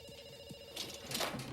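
A telephone bell rings in short bursts in a TV commercial, moderately loud and close, then builds slightly at the end.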